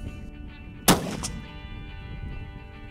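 A single sharp rifle shot from a Cross Canyon Arms rifle on a Texas hunt, loud and close, with a short rolling echo after the crack and no talking.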